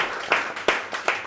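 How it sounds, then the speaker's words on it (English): An audience at an author talk at a library applauds the authors with a brief round of scattered clapping, a few distinct claps landing at a loose, uneven rhythm. "Round of applause for them again."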